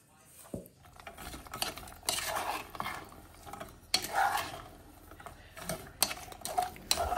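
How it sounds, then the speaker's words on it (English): Frozen blueberries and sugar are stirred in a pot, giving intermittent spoon scrapes and soft knocks over a gentle bubbling sizzle. Moderately quiet, with no speech. "I'm just occasionally stirring the blueberries just so all that sugar can get dissolved"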